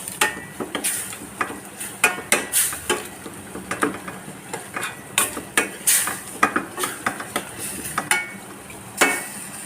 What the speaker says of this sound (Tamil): இது கொஞ்சம் நல்லா வதக்கிக்கிடுவோம்.